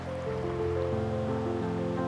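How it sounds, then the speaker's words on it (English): Small creek cutting a deep groove through desert sandstone, running in a steady, close, continuous wash of water with no voices. "This tiny creek has managed to cut a deep groove in the surrounding sandstone."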